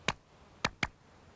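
Three sharp foot taps imitating the rhythm of the last three steps of a javelin throw approach, one tap then a pause followed by two quicker taps in close succession, crisp and near, with no other sound.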